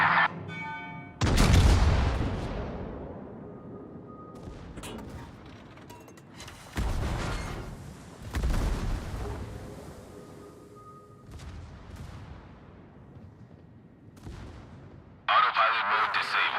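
Naval artillery fire in World of Warships, several heavy booming salvos spaced a few seconds apart, each with a long rumbling decay, plus a short electronic voice cue at the start and end.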